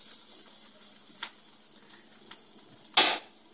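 An egg sizzles and fries steadily in a pan for a cheesy over-style egg dish, a soft continuous crackle with a few scattered pops and one sharper, louder burst near the end.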